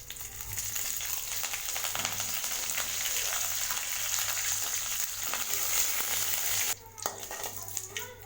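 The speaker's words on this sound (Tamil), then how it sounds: "கருவேப்பிலை நல்லா எண்ணெயிலே நல்லா பொரிஞ்சிருச்சு" Curry leaves fry in hot oil with mustard seeds, cumin and urad dal, giving a dense, continuous crackling sizzle up close that briefly drops off near the end.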